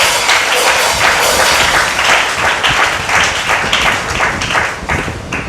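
A church congregation applauding and acclaiming, loud sustained clapping from many hands filling the room, with no clear speech.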